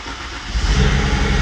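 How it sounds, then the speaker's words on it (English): A BMW E92 335i engine, freshly rebuilt for a drift build, cranks with a rapid low thrum and then catches, swelling into a louder steady roar up close. "Cranking a couple times. It's got to pump the fuel in there"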